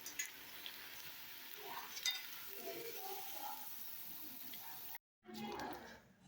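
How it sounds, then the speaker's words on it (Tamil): Banana flower vadas frying in hot oil give a faint, steady crackling sizzle with a brief break near the end, and soft voice traces drift underneath. "இப்போ நம்ம எடுத்த இந்த வடையெல்லாம் திரும்பவும் எண்ணெயில் சேர்த்துக்கலாம்"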